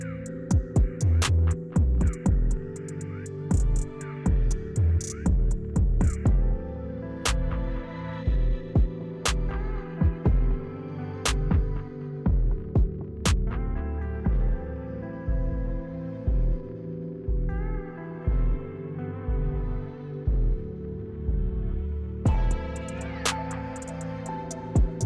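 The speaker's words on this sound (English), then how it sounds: "And now you fold over and you're going to sew about 1 inch away from the edge." A sewing machine stitching a dress hem, its motor humming with a steady rhythmic throb and needle pulses, close and continuous with small pauses and sharp clicks.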